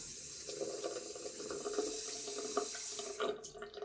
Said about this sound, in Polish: maszynka spłukiwana pod strumieniem wody